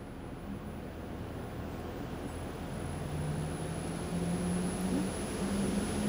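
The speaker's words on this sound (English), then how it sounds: "Make sure no one's in the way of the blower." An HVAC unit blower runs steadily during a cooling component test, a continuous broadband whoosh with a low motor hum that holds even and fairly loud throughout, a tone rising slightly near the end.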